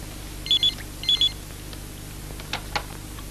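Two short electronic telephone rings, each a quick double burst, sound close and clear over a quiet room hum, followed by a couple of faint clicks.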